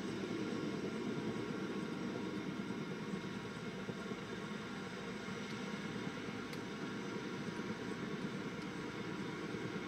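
In the Minecraft video game, a helicopter hovers near a tornado over water, heard as a steady, dense engine and rotor drone that holds constant throughout with no talking.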